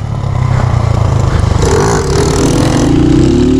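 A motorcycle engine close by, idling roughly and then revving up as the rider accelerates, its pitch rising steadily toward the end.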